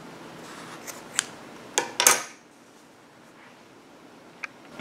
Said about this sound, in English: Then you can go ahead and cut it.